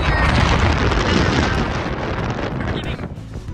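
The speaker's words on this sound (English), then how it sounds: "probably actually get wind here too, but we're getting Eastern Washington wind." Wind blowing at a gas station with rows of pumps, a loud, blustery rush buffeting the microphone that eases slightly near the end.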